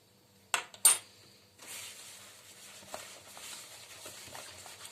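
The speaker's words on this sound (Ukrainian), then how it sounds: "Розпушувач у мене сода відправляю в кефір і розмішаю, щоб наша сода погасилася." Baking soda is stirred into kefir in a bowl: two sharp utensil clinks first, then a continuous soft scraping and swishing of stirring, close and fairly quiet.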